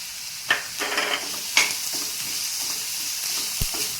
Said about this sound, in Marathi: मध्ये आपण 1 कांदा टाकून घेऊया चॉप केलेला।